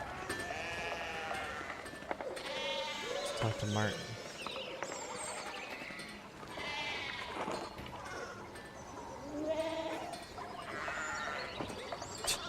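Sheep bleat repeatedly in the game Pentiment, several calls rising over soft background sounds while someone talks throughout.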